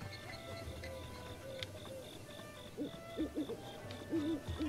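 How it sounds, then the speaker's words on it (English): Soft, low owl hoots repeat in a loose rhythm near the end, over a steady ambient game soundtrack with a faint high-pitched pulsing tone, in The Legend of Zelda: Breath of the Wild at Kakariko Village. "It's called an owl."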